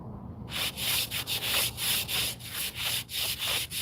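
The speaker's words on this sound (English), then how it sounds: "Then you use a little scraper, plastic." A small plastic scraper rasps across the stone face of a veteran's headstone in steady, close back-and-forth strokes, about a dozen rhythmic scrapes after a brief quiet start, with no talking.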